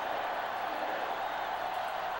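Stadium crowd in the PS2 game NCAA Football 2005, Texas Tech at Notre Dame: a steady, mid-level roar of massed fans that holds unbroken throughout.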